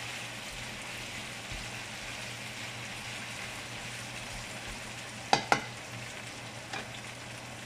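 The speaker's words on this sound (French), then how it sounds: "Je veux que tout puisse frire." Stew meat and vegetables fry in a pot over high heat, a soft continuous sizzle broken by a couple of sharp clanks of a utensil against the pot.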